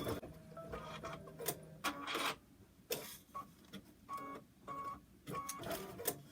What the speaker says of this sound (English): I'm going to go ahead and stitch the tack down line